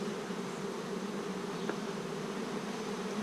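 Bees swarm around an open wooden hive outdoors among pine needles, a dense steady buzzing drone that holds evenly close by with no voices over it.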